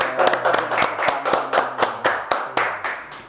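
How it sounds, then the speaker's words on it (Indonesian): Rhythmic hand clapping by a couple of people before a podcast chat, about a dozen sharp, evenly spaced claps close to the microphone. "Biasanya sebelum kita ngobrol-ngobrol, kita tepuk tangan dulu."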